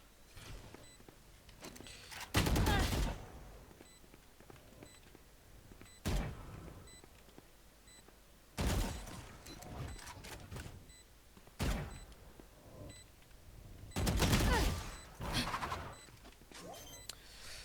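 Gunfire rings out at the shooting range in Valorant in several separate loud bursts about every two to three seconds, each a short volley. Between the bursts there is quieter background game noise.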